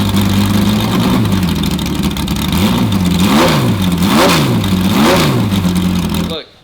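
A naturally aspirated V6 race car engine, with no turbo, blips loudly up and down in several sharp revs close by, its pitch climbing and falling each time before cutting off abruptly at the end.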